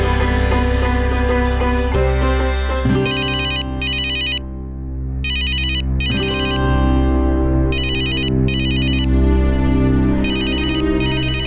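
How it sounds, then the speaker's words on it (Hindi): A loud electronic telephone ringtone plays a repeating melodic pattern, with bright bursts of tones recurring in regular pulses and no talking over it. "माता जी, वो जमनालाल जी का फोन है, मैं जरा बात करता हूं।"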